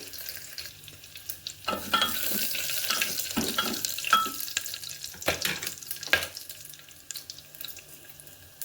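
Whole spices (cloves, cinnamon, marathi moggu, cardamom and bay leaf) fry in a pan of oil for thotakura rice, giving a steady close crackle with sharper spits and stirring scrapes, and no voices.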